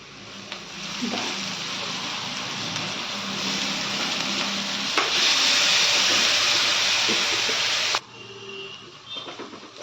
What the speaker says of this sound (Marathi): हे मिनिटभरासाठी सगळं मिश्रण परतून घेतलं आहे